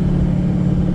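A Duramax diesel pickup on 38-inch Toyo M/T tyres cruises in fifth gear with the torque converter locked, heard as a short, steady, loud low drone of engine and road rumble from inside the cab.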